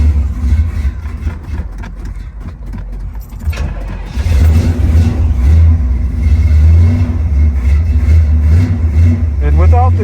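A 1966 Pontiac Bonneville 455 engine cranks and catches, then settles into a loud, steady low rumble with rising revs, while someone talks close by.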